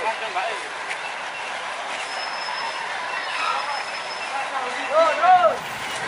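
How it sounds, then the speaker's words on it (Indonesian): An old locomotive on a long-disused lorry rail line pushing through bushes, a continuous rumbling rattle with faint metallic squeals near the end under someone talking. "Oke, lokomotif melewati semak belukar."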